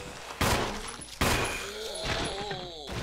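Two heavy gunshots from a Resident Evil game, each a sharp loud blast with a lingering echoing tail, spaced under a second apart, followed by creaking and groaning game sounds.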